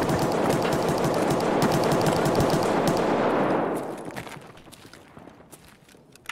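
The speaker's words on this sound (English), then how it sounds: "Just getting shot and sniped by player scavs at all fucking angles." Dense, sustained automatic gunfire from the video game Escape from Tarkov, loud and continuous for several seconds before abruptly dropping off to quieter scattered sounds.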